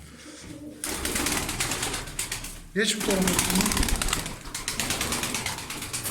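Tumbler pigeons coo and flutter close by while someone talks over them; a burst of wing flapping stands out midway through.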